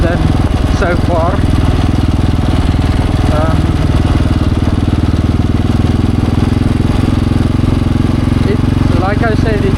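A KTM 690 Enduro single-cylinder motorcycle engine runs steadily while being ridden through mud, a continuous loud drone with speech over it throughout.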